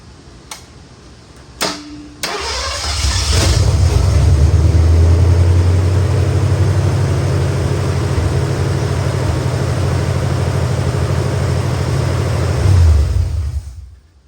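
A 1972 Mercury Comet engine fitted with a new carburetor cranks briefly, catches and revs, then settles into a loud, steady idle for about ten seconds before cutting off.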